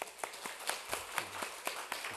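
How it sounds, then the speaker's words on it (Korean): A church congregation claps in a loose, uneven rhythm, individual hand claps landing roughly every quarter second at moderate volume in a reverberant hall, with a brief low murmur partway through. "박수 한번 쳐줍시다."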